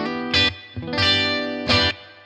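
Electric HSS guitar with its pickups switched to parallel, playing three bright, effect-coloured chords, the second one sustained and ringing out, with no talking.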